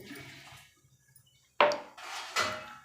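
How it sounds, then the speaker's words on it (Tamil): Mustard seeds pop and splutter in hot oil in a pan while tempering for temple-style puliyodharai spice powder, with sharp crackling bursts after a quiet start. "கடுகு நல்லா பொரியட்டும் கடுகு பொரியும் போதே"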